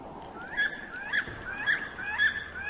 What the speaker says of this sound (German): Hier sind noch irgendwelche komischen Vögel.